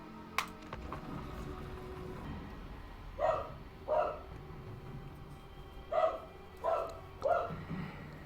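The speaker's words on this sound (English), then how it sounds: "Sorry my dog is barking." A dog barks loudly in the background, with five distinct barks in two bursts, a pair and then a quicker trio, over a quiet backdrop of game sound.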